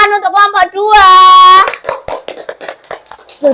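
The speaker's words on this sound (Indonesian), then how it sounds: "kasih tepuk tangan untuk kelompok 2" Classroom applause for a student group that has just presented: a short bright shout of cheering is followed by scattered, uneven hand claps over a couple of seconds, with a voice briefly heard before.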